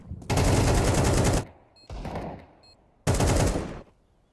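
Three bursts of automatic rifle fire from a Counter-Strike 2 match at a Major tournament, loud and close: a long volley, a shorter fainter burst, then another sharp sustained burst, with no talk over them.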